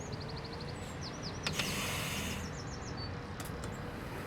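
Small birds chirp and tweet in quick repeated trills over a steady, noisy background, a few calls overlapping, fairly faint and distant, as game ambience in Bus Simulator 21.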